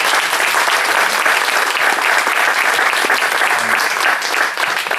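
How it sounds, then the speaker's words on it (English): Loud, dense applause from an audience at a conference on urban policy and locally led strategies, steady and continuous throughout with no voices over it. "a round of applause for Jan Olbrecht"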